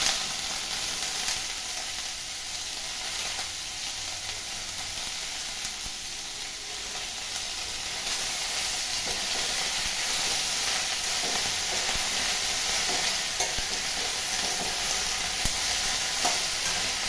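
Indian pennywort (vallarai) greens sautéing in a pan over a medium flame, giving a steady sizzle and hiss with occasional stirring scrapes, continuous and close, with no talking.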